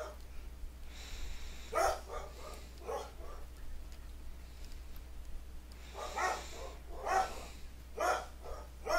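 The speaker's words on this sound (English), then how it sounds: "My dogs are barking." Several dogs bark indoors during a game session, a few sharp barks heard at a moderate distance, spaced irregularly over a low steady hum.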